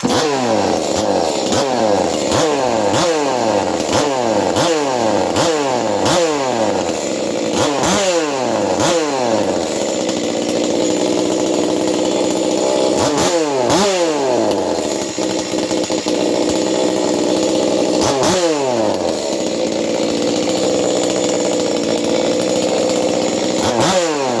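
A ported 2511 chainsaw engine runs on a workbench, revved again and again in sharp bursts that rise and fall over a constant buzzing idle, loud and close, with no talking.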